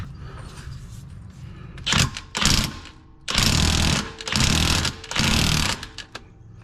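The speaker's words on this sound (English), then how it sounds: "So I've got a 32 millimeter Tecton impact." A 32 mm Tekton impact wrench hammers at a Jeep Liberty rear axle nut in several loud, rattling bursts, two short and three longer, separated by quieter pauses.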